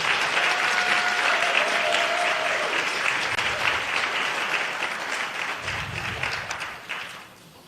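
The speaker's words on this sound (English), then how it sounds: "Let's give another round of applause for Cynthia." Steady applause from a crowd fills the room, sustained clapping that fades out toward the end.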